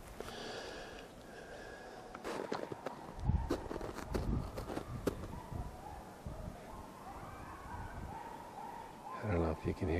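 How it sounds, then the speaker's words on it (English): Dogs bark intermittently in the distance, faint against outdoor ambience on a coyote hunt in Upper Michigan, with rustling footsteps and shuffling nearby. "I don't know if you can hear them dogs barking"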